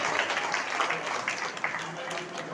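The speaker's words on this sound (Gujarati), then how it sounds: "આ બાળકો માટે આપણે તાળીઓના ગડગડાટથી વધાવીશું।" An audience applauds schoolchildren at a community prize-distribution event in Bharuch. The clapping is a moderate, continuous patter, mixed with voices throughout.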